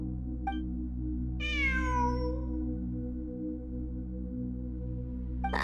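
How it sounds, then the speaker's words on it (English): A single drawn-out cat meow rises and falls clearly over a steady low ambient drone in the Genshin Impact video game, followed by quiet hum, with no voices present. "I'm not hearing things. It really is a cat."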